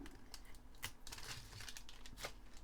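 Small bits of tape being cut and handled for a scrapbook page, heard as very faint, close crinkles and quick snips in a short irregular cluster, no talking.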